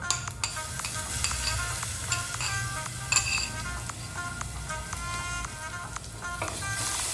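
A masala mix sautéing in a pan with shallots, ginger and spices for Kashmiri-style mutton masala, an even close sizzle with frequent spoon clinks and scrapes against the metal pan and no voices.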